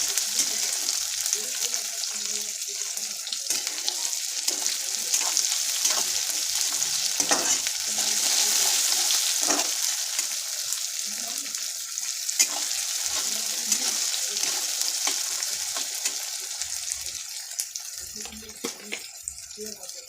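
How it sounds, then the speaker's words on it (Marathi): Two chopped tomatoes fry in a pan for a cauliflower curry, a steady close sizzle with scraping stirring and occasional clinks running throughout. "आपण कट केलेले 2 टोमॅटो ते टाकून देऊ आणि ते पण चांगले व्यवस्थित फ्राय करून घेऊ"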